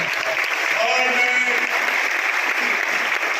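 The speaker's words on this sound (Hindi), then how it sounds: "जोरदार तालियां।" Audience applause at a Christmas program, a steady wash of clapping that runs throughout while a voice speaks briefly over it.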